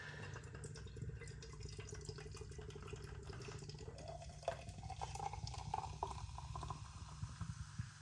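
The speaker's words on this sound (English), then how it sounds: "A very rigorous pour with a sour beer" Sour beer pours steadily into a glass from a can with a soft, continuous gurgle and fizz, rising slightly in pitch toward the end, with no talking.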